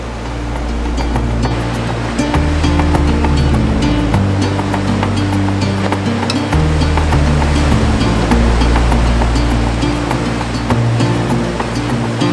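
Ocean waves near Sooke lighthouse surge and wash continuously, loud and close, with a steady rumbling surf and layered low roar for the whole stretch.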